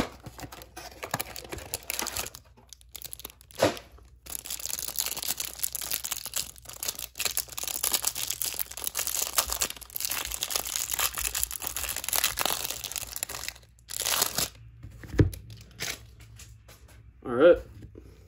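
A trading card hanger box being ripped open, quiet crinkling and tearing of packaging with some shuffling handling noise running throughout, a few sharper rips near the end, and a voice talking in the background.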